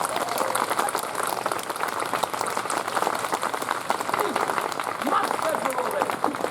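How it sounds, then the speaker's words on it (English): An audience at a Renaissance faire royal court show claps hands together in steady, dense applause that carries evenly from start to finish, with a voice faintly mixed in. "Clap."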